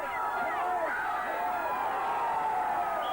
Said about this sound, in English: He's got a hell of a crowd backing him up here.